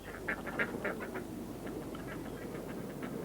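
Several ducks quack in a rapid, chattering series against a steady outdoor background, loudest early on and continuing more softly.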